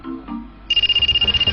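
A cellphone ringtone starts abruptly as a rapid, pulsing electronic trill that repeats in quick, even bursts, loud and close, after a brief low murmur.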